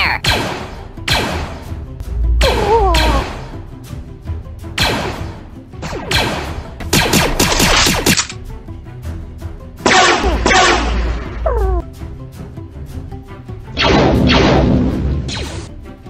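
Rapid bursts of blaster fire in a Lego Star Wars stop-motion battle, loud, sharp repeated zaps in dense volleys separated by brief pauses, with booming impacts underneath.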